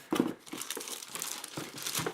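Paper packaging crinkles and rustles as a Perixx Periboard-512II ergonomic split keyboard and its accessories are pulled from the box, in irregular close bursts of crumpling and light tearing with no voices.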